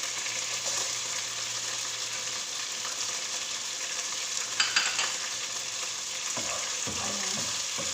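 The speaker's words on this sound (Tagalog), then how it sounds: "Pwede na nato ilunod ang ahos." Garlic sizzles and fries steadily in a pan for a chicken soup, a soft, constant crackle heard up close, with a few clinks of stirring near the end.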